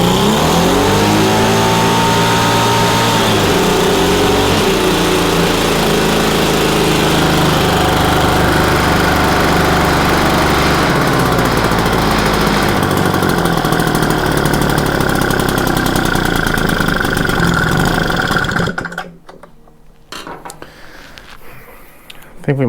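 Echo PB-200 leaf blower with a suspected carburetor problem, a loud two-stroke engine revving at full throttle, wavering and bogging, then dropping out abruptly near the end.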